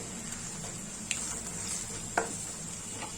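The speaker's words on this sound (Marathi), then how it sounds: "ह्यामध्ये मी लाल तिखट, हळद आणि गरम मसाला टाकते। ते जरा तेलावरती परतून घेऊ।" Oil sizzles steadily in a pan as red chili powder, turmeric and garam masala are sautéed over browned garlic for a Marathi tomato curry, with a couple of sharp spoon taps against the pan.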